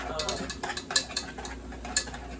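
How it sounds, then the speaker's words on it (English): Soft, rapid scraping and light metallic clinks of a whisk stirring a creamy tomato soup mixture in a cooking pot, with a few sharper taps standing out over a quiet, steady kitchen background. "I'm just gonna whisk it into my pot here"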